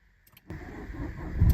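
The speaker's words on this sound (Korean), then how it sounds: "시동 걸었을 때 이렇게 엔진 속도가 느리게 시동이 걸리면 배터리 힘이 떨어진 겁니다" On a second attempt, a Renault Korea car's starter motor drags the engine over slowly on a weak battery, a short click followed by a loud, laboured cranking that strengthens toward the end.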